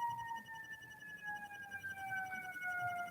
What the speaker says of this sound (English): And we got fire truck sirens